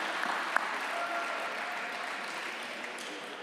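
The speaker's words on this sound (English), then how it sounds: "Give Jerry another round of applause, please, for his amazing auction skills." Audience at a charity gala auction claps in sustained, even applause, moderately loud and filling the room, with no voices over it.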